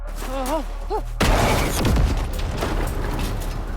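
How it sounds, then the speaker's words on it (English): A truck driven into a lake explodes in a horror film scene: after a brief tonal cry-like sound, a sudden loud, close boom erupts and rolls on as a broad, rumbling roar of debris and water through the rest. "launches the truck into the lake and makes it explode to create a signal that someone can see."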